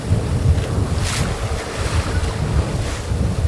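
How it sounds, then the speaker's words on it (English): Big waves surge and slosh around a sailing boat at sea, loud and close, under constant wind roar and microphone buffeting, with no talking. "The waves are quite big actually."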